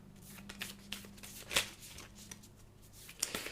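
A deck of playing cards is shuffled for a board game's draw pile, producing soft riffling flutters and a few sharper snaps, close and quiet with no voices.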